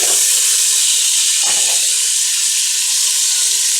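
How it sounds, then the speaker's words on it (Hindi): Potatoes frying in a hot pan with cumin give off a loud, steady sizzle and hiss throughout, with a brief dip partway through as they are stirred. "थोड़ा सा फ्राई करना है इसे अच्छी तरीके से।"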